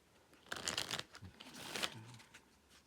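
A deck of cards being shuffled up close, two quick riffling bursts of papery flutter in a quiet room.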